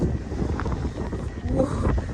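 Strong wind buffets the microphone beside a field of wind turbines, a continuous heavy rumbling roar with gusting swells and no clear pauses.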